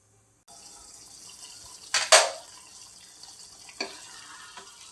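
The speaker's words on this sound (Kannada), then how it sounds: "ಸ್ವಲ್ಪ ನೀರು ಹಾಕ್ಕೊಂಡು ಇದನ್ನು ಚೆನ್ನಾಗಿ ಪೇಸ್ಟ್ ಮಾಡ್ಕೊಳ್ಬೇಕು." Water splashes into a mixer jar holding ingredients for a chicken fry paste, two short bright gushes and a later small splash over a quiet, steady background hiss.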